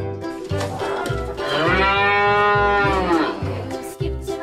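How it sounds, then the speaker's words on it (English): A cow gives a long, loud, close moo that swells and fades over a few seconds, set against a bouncy rhythmic music backing. "Cow."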